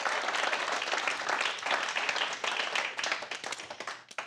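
Audience at a comedy show breaking into sustained applause, dense clapping held at a loud, fairly even level before tapering off at the end.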